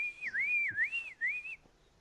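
A person imitates a loud, big whistle with their mouth, a sweeping, warbling tone rising and falling in three quick swoops before stopping, close and clear with no talk over it.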